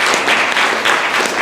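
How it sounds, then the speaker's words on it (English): A live audience gives a round of applause for a community crew at a civic event, a dense, steady wash of clapping filling the whole moment at close range with no voices standing out. "a round of applause for Tamarala and her crew at TAGG"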